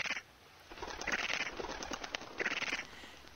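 Birds in the Flash puzzle game Grow Cube, cooing and fluttering in three short bursts of bright calls with soft wingbeat-like flutter between, fairly faint and alone.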